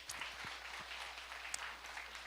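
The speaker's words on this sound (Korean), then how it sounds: "다시 한번 우리 환영 예배 박수 한번 칠까요?" A church congregation at a Korean college-group welcome service claps for incoming freshmen, producing a dense, even patter of many hands lasting a couple of seconds, with no talking over it.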